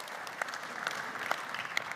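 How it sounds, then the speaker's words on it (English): Quiet, scattered clapping from a church congregation during a sermon, a few distinct claps standing out over a soft background hum, brief and fairly distant. "Now you can clap."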